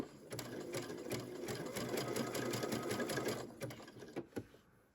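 A sewing machine with a cording foot stitches a 3-step zigzag, a steady fast mechanical whirring and rapid needle clatter running for several seconds before slowing and stopping; faint voice in the background.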